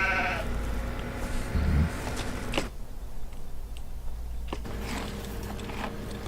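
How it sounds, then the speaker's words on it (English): Sheep bleat loudly and close in a modded farming video game, one long sustained cry first and then quieter calls, set against a steady background ambience. "So it's noisy sheep."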